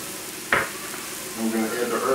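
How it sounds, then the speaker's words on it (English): Vegetables sautéing in a pot for beef chili, a quick spoon scrape and then a soft sizzle building up close by over a couple of seconds. "Now we're going to saute the vegetables."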